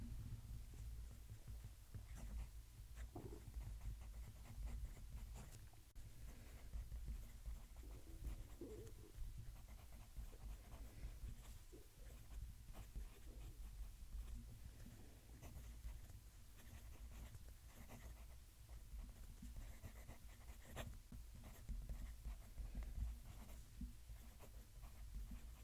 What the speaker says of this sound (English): I'm going to move the mic so you can hear the pen write.